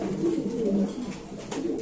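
Large Romankal pigeons give low, rolling coos close at hand, a soft continuous murmur of overlapping calls lasting about two seconds.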